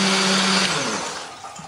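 A blender grinds shallots, garlic, candlenut and ginger with a little water, a loud whirring motor roar that winds down toward the end of the short burst.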